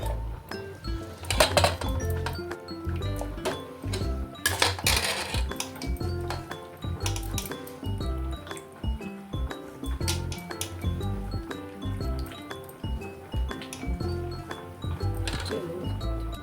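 Fish being swished and lifted by hand in a metal vessel while cleaning it for a village-style curry, with repeated clinks, knocks and watery sloshing at close range.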